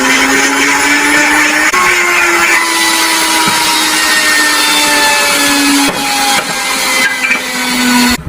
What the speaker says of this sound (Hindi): ये वाली शामिल करते हैं इसके अंदर, इसको ग्राइंड कर लें यहाँ पे।